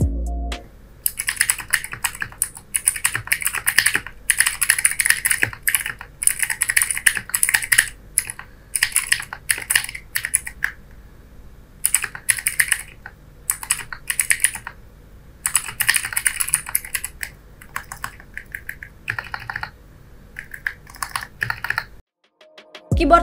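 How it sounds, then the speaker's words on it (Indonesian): Typing test on a custom modded mechanical computer keyboard, with rapid continuous clacking keystrokes in bursts and short pauses, close and loud with no talking. "Langsung aja kita typing test."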